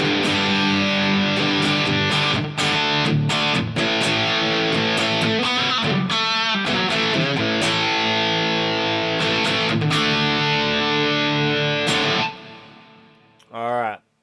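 An electric guitar through a Headrush pedalboard's overdrive and distortion effects plays heavily distorted chords and riffs, loud and sustained, ending with a brief final strum.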